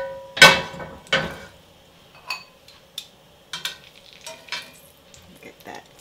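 Food frying in a very hot pan while broccoli is being cooked, with bursts of sizzling and stirring scrapes that come in short separate spurts, loudest at the start and then softer and intermittent, close by and without any talk.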